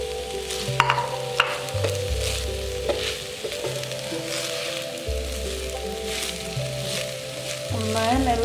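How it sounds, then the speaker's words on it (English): Scrambled eggs and rice frying in a pan for homemade Chinese fried rice, a steady close sizzle with stirring scrapes and a low steady hum underneath. "add our scrambled eggs to the rice"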